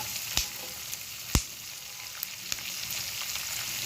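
Green chillies sizzle loudly in hot oil for a dal-style tempering, with a steady hiss broken by a few sharp pops and clinks of stirring.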